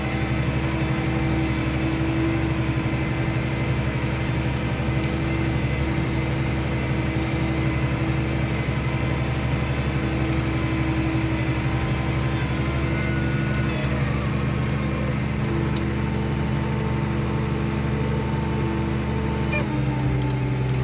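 A New Holland T6.175 tractor engine running steadily at low revs, a loud, even diesel drone with a constant hum and low rumble that holds unbroken from start to finish, with no talk over it.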